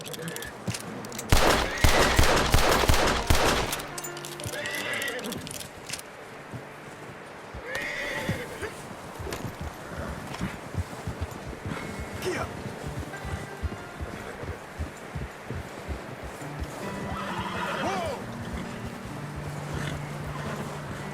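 In the video game Red Dead Redemption 2, horses whinny loudly several times over a steady clip-clop of hooves, with scattered gunfire and background voices mixed in.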